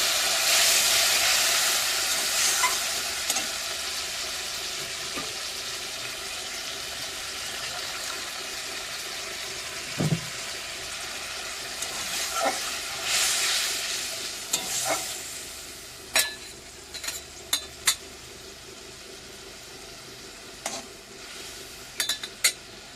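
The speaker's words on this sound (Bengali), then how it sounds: "তরকারিটা ফুটে উঠেছে" A pot of curry with added water simmers and bubbles on the stove, giving a steady soft hiss with occasional pops and light clinks toward the end; close and moderate, with nothing spoken.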